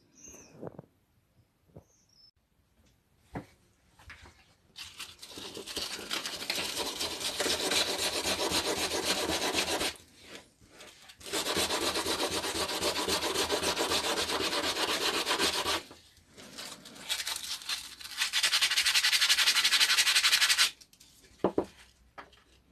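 Abrasive sanding of a multi-coloured resin teardrop pendant, in long steady rasping strokes broken by short pauses, close and fairly loud with no talking.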